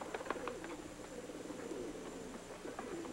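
Pigeons coo in soft, repeated low calls amid faint outdoor background noise, several birds fairly close with no talking.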